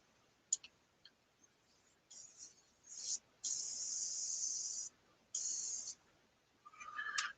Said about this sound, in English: I'm going to turn the nozzle, put the limiter on, and just mess around with the Mac valve to turn the pressure down a little bit